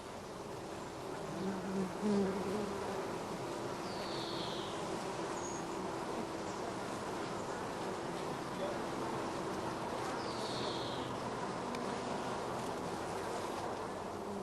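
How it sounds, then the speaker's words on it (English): Honey bees confined in a swarm box with a screened floor hum in a dense, continuous buzz, steady and fairly faint, with a couple of brief higher chirps rising above it. "The swarm box has a large screened floor which prevents the bees suffocating during"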